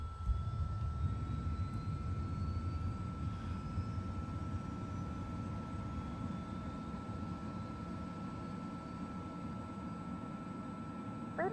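An ATR72-600 turboprop airliner's engine spins up during startup, giving a steady, continuous roar with a sustained whine layered on top, heard from inside the cabin.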